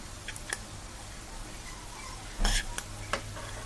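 Chicken fried rice is stirred in a sizzling pan. A low, continuous fry noise is broken by a few sharp scrapes and clinks of the spoon against the metal, with one louder scrape near the middle.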